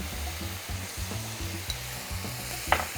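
Tuna fries in a pan with a loud, continuous sizzle as garlic goes in. Rhythmic scraping strokes of stirring repeat throughout, and a brief sharp clink of a utensil sounds near the end.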